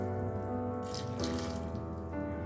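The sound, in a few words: pouring water into pot for dal curry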